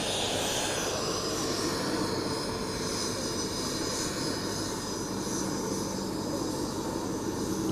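A grey jet aircraft carrying the President of Ghana approaches to land, its engine roar a steady, continuous rumble heard alone throughout.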